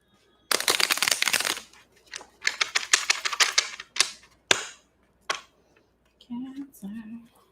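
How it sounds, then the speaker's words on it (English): Rapid riffling bursts of a tarot deck being shuffled, several quick runs separated by short pauses, close and crisp, with brief voice near the end. "Couple more shuffles here."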